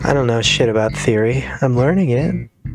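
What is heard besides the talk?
No distinct noise like a dog, phone or traffic.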